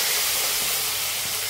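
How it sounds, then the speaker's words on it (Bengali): Pieces of katla fish frying in hot oil, a loud, dense continuous hiss and sizzle lasting the whole short stretch. "এবার মাছটাকে ভালো করে, বেশি কড়া করবো না কিন্তু, মোটামুটি আর কি এপিট ওপিট করে ভেজে নেব"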